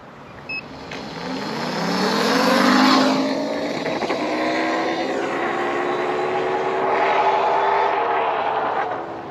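A Sur-Ron electric dirt bike with a BAC4000 controller and BMS bypass pulls hard, its motor whine rising in pitch then falling and rising again as it accelerates, fairly loud and close with wind noise.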